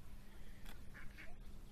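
Ducks quacking at a pond, a couple of faint, distant quacks over a soft outdoor background rumble.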